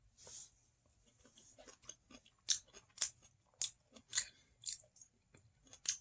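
Close, crunchy chewing of a sesame seed sandwich, with irregular crisp bites and mouth sounds spread over several seconds, no talking.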